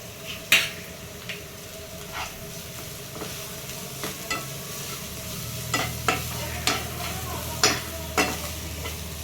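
Vegetables fry in a pan with a soft continuous sizzle while a spoon stirs and scrapes against the metal, giving repeated sharp clacks at uneven intervals, close and with no talking.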